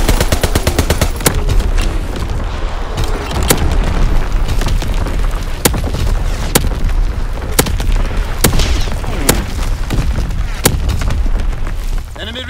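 Primary battery artillery fire in Call of Duty: WWII during a team deathmatch, a loud dense barrage of booming blasts and rapid sharp shots with several heavy separate impacts spread across the stretch.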